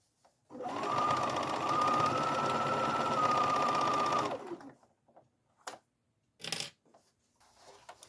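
A sewing machine stitches the fabric of a sink cabinet skirt, starting with a backstitch, in a steady close whir of about four seconds; a few soft clicks and handling noises follow once it stops.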